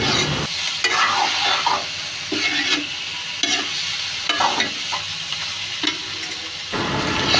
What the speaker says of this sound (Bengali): ভালো করে নাড়াচাড়া করে দিতে হবে।